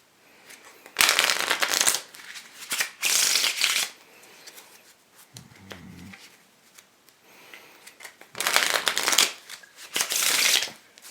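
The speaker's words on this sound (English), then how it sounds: "They handle great. Fan nicely and spread nicely." A new deck of playing cards of soft aristocrat stock is riffled, fanned and spread in four or five loud, close bursts of fluttering card noise separated by short pauses.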